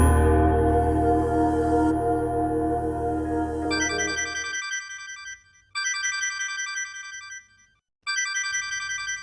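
A mobile phone ringtone rings unanswered, a loud repeating electronic melody that plays in bursts with short silent gaps, preceded by other loud sound at the start.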